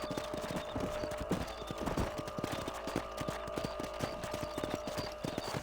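Horse hooves clip-clop in the Red Dead Redemption video game, a steady galloping patter of many close hoof strikes over continuous ambient game sound.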